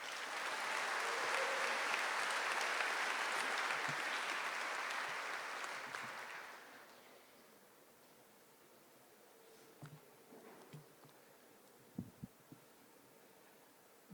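Applause from a commencement audience at a high school graduation, a dense wash of clapping for about six seconds that fades out, leaving a quiet hall with a few scattered bumps and rustles.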